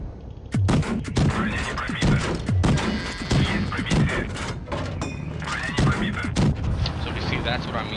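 MT-25 45mm tank gun firing in World of Tanks Blitz, a series of about seven punchy, evenly spaced shots over a steady rumble of game noise, with someone talking throughout.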